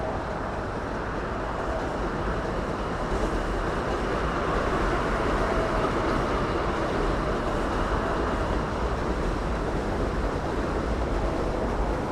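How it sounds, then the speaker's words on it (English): A New York subway M train rolling across the Williamsburg Bridge toward Marcy Avenue, a broad, steady rumble and rattle of rail noise filling the whole clip, with no voices. "There's an M train now headed towards Marcy Avenue."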